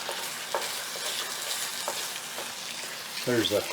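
Mashed potato mixture being stirred in a hot pan with frozen vegetables for cottage pie, with a continuous sizzle and soft, wet stirring scrapes, and a brief voice near the end.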